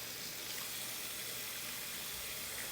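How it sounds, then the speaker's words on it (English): Water runs steadily from a tap to rinse out an emptied eggshell, a constant broadband splashing hiss that stays close and even throughout with no talking. "We're going to rinse it out."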